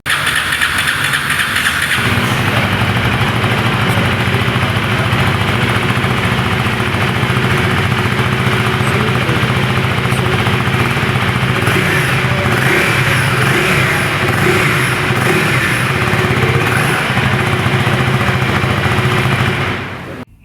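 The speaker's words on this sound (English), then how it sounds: "let's hear the exhaust note." A Husqvarna Svartpilen 401 motorcycle with an underbelly exhaust starts up and runs close by, a loud steady thrumming note that settles into a throaty idle and holds for many seconds before cutting off at the end.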